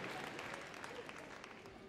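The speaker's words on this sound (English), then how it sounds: "And give them a round of applause." Audience applause at Crufts 2012 following a Hillwork to Music dog activities display, a dense, steady wash of many hands clapping in a large arena, with a voice faintly mixed in.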